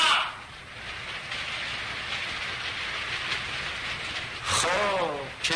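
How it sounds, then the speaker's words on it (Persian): Heavy rain pours in a continuous dense hiss that fills the scene, steady and fairly loud, with a voice breaking in briefly near the end. "داره میباره، بارون گرفت، اونم چه بارونی"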